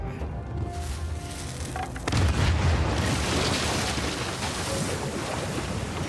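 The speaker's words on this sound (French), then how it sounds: "Je vais tirer sur le canon." A deep boom from a cannon firing in Uncharted 4 bursts in about two seconds in, followed by a sustained roar of rushing water and noise that continues loudly to the end.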